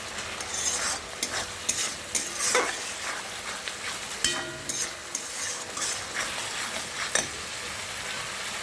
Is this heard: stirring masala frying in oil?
yes